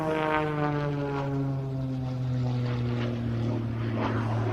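Aerobatic aircraft engine at an air show festival, a loud steady droning propeller tone with strong harmonics that slowly shifts pitch as the plane maneuvers overhead, no talking.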